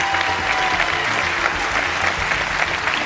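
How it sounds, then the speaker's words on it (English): A live television studio audience applauds loudly and steadily for the witnesses, with dense, even clapping that fills the whole moment without pause. "Give our witnesses a big round of applause."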